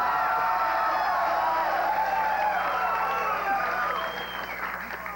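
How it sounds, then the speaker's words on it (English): A studio audience at a 1989 television game show cheers and applauds in a dense, sustained roar of clapping and whoops that holds steady, then thins and fades slightly near the end. "I don't know if they're cheering with you or at you."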